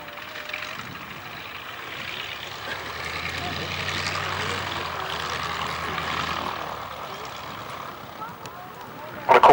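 Fieseler Storch light aircraft making a very short landing run at Old Warden in virtually nil wind; a steady propeller-engine drone at middle distance holds throughout beneath a talking voice, ending with a brief louder knock.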